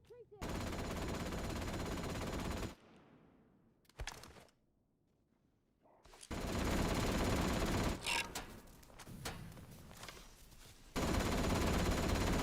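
Heavy automatic gunfire in the video game Atomfall, loud sustained bursts of rapid shots broken by brief pauses and a few isolated cracks, with no talking.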